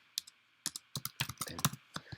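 Fingers type a short word on a computer keyboard, giving about a dozen crisp, close key clicks in quick uneven bursts over a quiet background.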